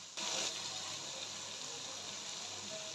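Water is poured into a pan of cooking tomato and egg bhurji gravy, a steady, close splashing rush that starts abruptly and continues evenly without talk.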